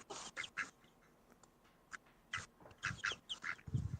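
Two pet ducks in a coop, picked up faintly over a live camera feed: scattered short quacks in irregular bursts over a hissy background, with no talk.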